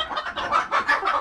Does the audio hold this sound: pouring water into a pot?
no